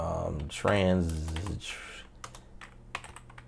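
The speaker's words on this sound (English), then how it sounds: "I can type and look for it, no problem" A computer keyboard is typed on in a home studio, a few sparse, light key clicks following a burst of speech, close and fairly quiet.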